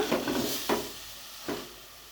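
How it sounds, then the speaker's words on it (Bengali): Dried shrimp and green beans frying in oil in a pan with coriander leaves, giving a soft steady sizzle broken by three brief scraping stirs, close and moderately quiet with no talk. "এখন কিছুক্ষণ ভাজা ভাজা করে নামিয়ে ফেলবো।"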